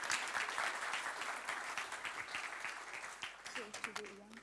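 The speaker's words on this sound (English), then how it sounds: "So can we give them a very warm round of applause, please, ladies and gentlemen?" Warm, sustained applause from a conference audience at a European raw materials event, dense and even throughout, with a voice beginning to speak over it near the end.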